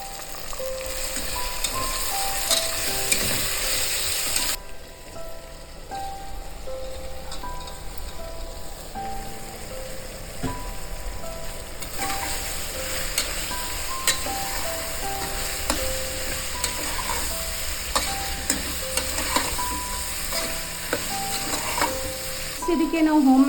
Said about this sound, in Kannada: ಕ್ಯಾಪ್ಸಿಕಮ್ ಹಾಕ್ಕೊಂಡು ಒಂದು 2 ಮಿನಿಟ್ಸ್ ಫ್ರೈ ಮಾಡ್ಕೊಳ್ಳೋಣ.